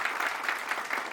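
Audience applause at a career guidance seminar, a short, steady burst of many hands clapping at moderate volume with no voices over it.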